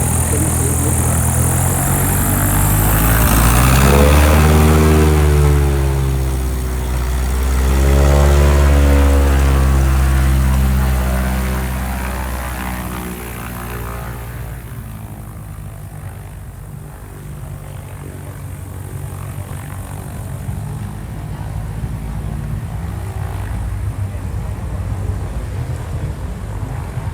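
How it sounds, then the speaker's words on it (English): A propeller seaplane taxis across the water at the Tavares, Florida seaplane fly-in, its engine droning loud and close, swelling twice in throttle surges before settling into a steadier, lower rumble that gradually fades. "By opening and closing the door, you can instruct how the airplane is moving across the water."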